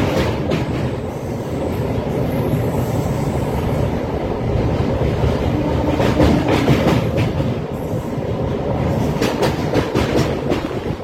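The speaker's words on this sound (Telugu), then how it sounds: "అటుపక్క గూడ్స్ ట్రైన్ అయితే ఉంది, అది కూడా స్లోగా అయితే మూవ్ అవుతుంది." A goods train rolls slowly along rails near the Krishna River crossing by Vijayawada, giving a steady, loud rumble with faint clattering wheel noise and brief squeal-like tones, continuous throughout with no voices.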